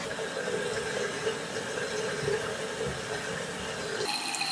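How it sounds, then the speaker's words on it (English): Toilet tank refilling after the water supply valve is opened on a noisy-filling toilet, a steady hiss and rush of running water at close range, continuous throughout with a slight change in tone near the end. "Open the water supply, slowly at first to reduce water hammering."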